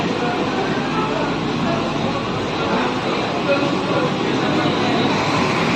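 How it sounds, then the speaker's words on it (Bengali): Inside a Sealdah–Ranaghat AC local train, a continuous loud rumble of the moving carriage fills the space, with steady wheel and track noise and faint background chatter throughout. "Sealdah Ranaghat AC local train"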